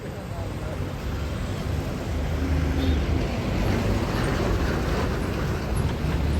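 A vehicle passes on a road near a farm house in Madikeri, giving a steady broad rumble that swells slightly midway, with a voice talking over it.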